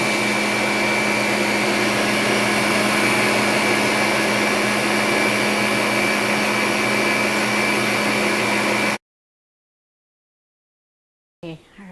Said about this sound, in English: We'll beat them until they're frothy.